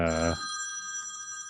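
A telephone rings with a bright electronic trill that holds steady for over a second, clearly audible, right after a brief burst of a voice at the start.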